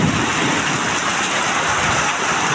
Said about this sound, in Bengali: দেখেন কী পরিমাণ হঠাৎ করে বৃষ্টি নামা শুরু হয়ে গেছে, প্রচুর বৃষ্টি, বলার বাহিরে অতিরিক্ত বৃষ্টি আসা শুরু হয়ে গেছে।